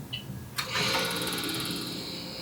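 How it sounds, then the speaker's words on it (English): Harvest Right home freeze dryer starting up: a short beep, then a sudden burst as the compressor and pump kick in, settling into a loud steady whirring drone. "Now the freeze dryer will go into a 15-minute preparation cycle"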